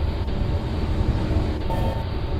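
A C151 metro train rolling between Kembangan and Simei in a Roblox game, a steady loud rumble of wheels and motor noise filling the whole stretch, with a faint higher whine near the end.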